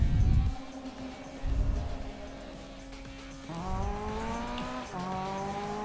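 A Ferrari F40 racing in Need for Speed 2015, its engine holding a steady whine that rises sharply with each gear change, loud and close with no talking.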